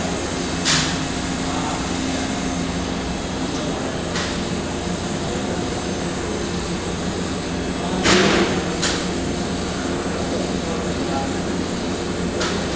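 A wave soldering machine's fluxer runs with a steady, loud broadband whir that holds unchanged throughout, broken by a few sharp clicks and knocks.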